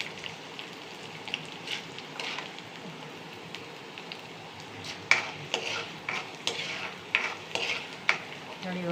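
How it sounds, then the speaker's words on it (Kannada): Garlic frying in oil in a pan for mint chutney, a steady soft sizzle broken by irregular scraping stirs that get louder and more frequent toward the end. "ಈಗ ಬೆಳ್ಳುಳ್ಳಿನೂ ಫ್ರೈ ಆಗೋ ತನಕ ಸ್ವಲ್ಪ ಹುರ್ಕೊಳ್ಳೋಣ ಎಣ್ಣೆಯಲ್ಲಿ."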